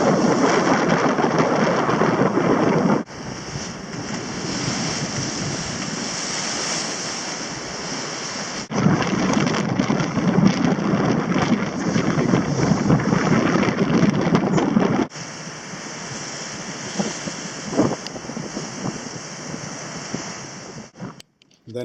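Rough open sea with surf and gusting wind washing over a sailboat sailing on a beam reach, a steady broadband roar that swells and shifts in sections, with wind buffeting the microphone and no voices.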